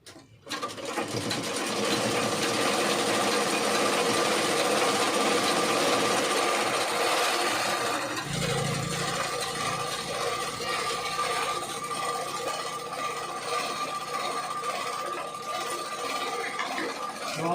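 A sewing machine stitches continuously at steady high speed, its loud whirring, rattling drone running throughout, with a slight shift in tone partway through as the motor continues.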